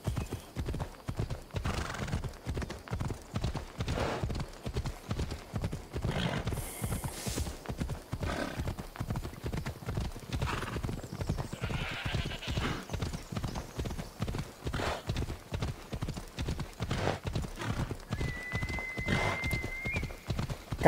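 Horse galloping in the video game Assassin's Creed Odyssey, a steady, fast clip-clop of hooves running close and loud throughout, with a brief neigh mixed in and no talk.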